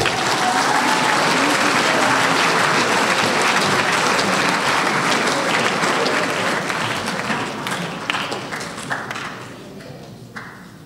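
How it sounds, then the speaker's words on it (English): A crowd at a school speech night breaks into a full round of applause, loud and dense at first, then thinning into scattered individual claps as it fades out toward the end. "Would we all give these people a round of applause?"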